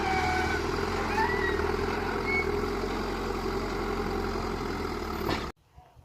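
A bulldozer breaking open the ground at a home building site in Mexico gives a steady low diesel rumble with clanking, held at moderate distance for several seconds before cutting off abruptly.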